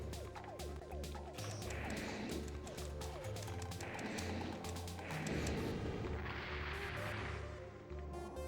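Explosions from the PlayStation mech game Armored Core burst as several heavy, crashing blasts over a driving game soundtrack, spaced a couple of seconds apart and fairly loud against the music.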